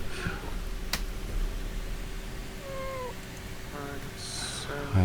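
A cat meows a few times indoors during a tabletop role-playing game session, the calls clear over steady room noise, with a loud bump near the end.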